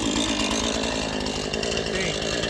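Husqvarna-style chainsaw, a 440 or Promac 610, running loudly at a high, steady buzz close by with no pauses.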